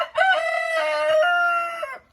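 A Faverolles rooster gives one loud, close crow, a sustained cock-a-doodle-doo lasting about two seconds, with a faint cluck in the background.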